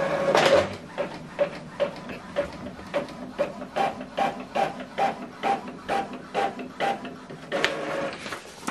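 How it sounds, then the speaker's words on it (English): An Epson WF-2840DWF inkjet printer runs off a test page, giving a steady series of rhythmic mechanical clacks and whirs as the print head shuttles back and forth, close and moderately loud, with no talking. "So right now it's printing the test page."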